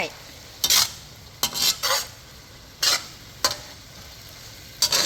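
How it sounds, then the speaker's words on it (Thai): Sweet bamboo shoots stir-fried in a pan, heard as several short, sharp bursts of sizzling and scraping spaced a second or so apart over a quiet background. Close and clear, with no one speaking. "หน่อไม้ไผ่หวานเราไม่ต้องผัดนานนะคะ"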